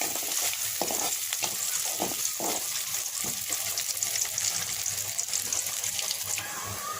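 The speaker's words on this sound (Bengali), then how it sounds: "আর পেঁয়াজ রসুন ভেজে নিচ্ছি" Onion and garlic frying in mustard oil give off a loud, continuous close sizzle, with a spatula stirring and scraping the pan and a faint trickle of water in the background.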